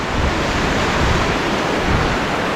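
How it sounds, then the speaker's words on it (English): A mountain stream on the shaded Seven Bridges Trail in Colorado Springs rushes steadily nearby, a loud, even wash of running water with no pauses and no voices. "You hear the water the entire time."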